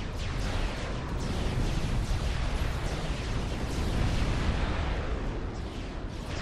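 A continuous roar of missile explosions and blasts fills a Supreme Commander battle, loud and dense with overlapping bursts and no pauses.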